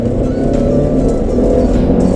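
A 2018 Mercedes-Benz GLC 200 turbocharged car accelerating hard, heard from inside as a loud, steady engine drone held high in the revs, with no talk.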